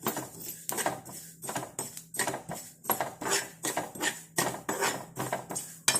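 Nigella seeds (black cumin) dry-fried in a heavy pan for homemade hair dye, with repeated metallic scraping and clinking strokes of a spoon against the pan in a steady rhythm, close and fairly loud.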